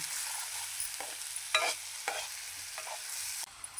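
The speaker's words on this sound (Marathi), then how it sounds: "वाटून घेतलेलं कांदा खोबऱ्याचं वाटण हे सुद्धा तेल सुटेपर्यंत म्हणजे 5 ते 7 मिनिटं व्यवस्थित असं त्याला फ्राय करून घेऊया" Onion and coconut masala paste fries steadily in hot oil, a continuous close sizzle broken by a few sharp scraping stirs and a brief quieter gap near the end; no voices.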